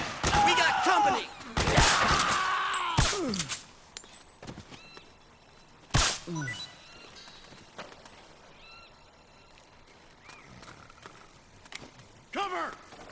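Bursts of gunfire in the video game Metal Gear Solid 4, loud sharp cracks separated by gaps, mixed with shouted voices and honking, squawking calls.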